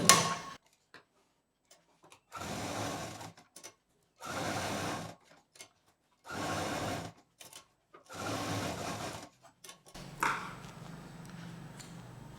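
A sewing machine runs quilting lines on a baby quilt made from T-shirt fabric with cotton batting, in five steady bursts of rapid stitching separated by quiet pauses, close up with no talking.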